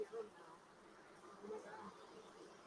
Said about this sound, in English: all the bees are getting mad